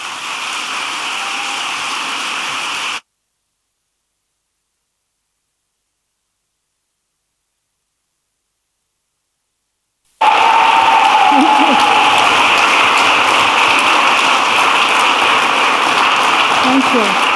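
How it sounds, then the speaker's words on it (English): Large audience at an evening conservation lecture applauds loudly and steadily as the guest speaker is welcomed, the clapping breaking off for several seconds of silence before resuming at full strength. "So please join me with a big round of applause for Dr Biruté Galdikas."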